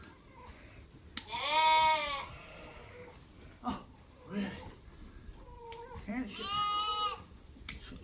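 A sheep bleats loudly and repeatedly while being trimmed, two long wavering cries close to the mic, with people talking briefly around them.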